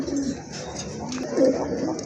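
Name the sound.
Shua Chandan pigeons cooing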